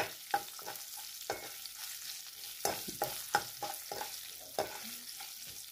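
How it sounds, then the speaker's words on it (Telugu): A tempering of asafoetida, curry leaves and green chillies is stirred through banana stem curry in a pan, with repeated scraping strokes of a spoon over a low background sizzle. "ఈ పోపు వేసుకొని కలుపుకోవాలండి."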